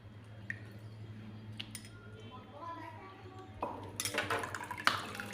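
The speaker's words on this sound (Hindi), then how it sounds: "इसे थोड़ा सा ठंडा पानी डाल के वॉश कर लूँगी" Cold water splashes and trickles over chhena in a bowl, with soft squishing and a few clinks of utensils, growing busier toward the end.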